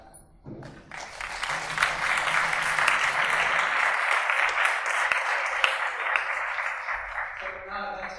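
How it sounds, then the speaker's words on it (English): An audience at a Tokyo event applauds the sponsors, dense clapping rising quickly after a brief voice and holding steady before fading, with a faint voice at the end. "a round of applause for them"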